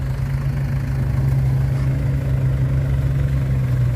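A Kobelco SK140 Super X excavator's diesel engine idles with a deep, steady rumble and a constant low drone, close by and unchanging.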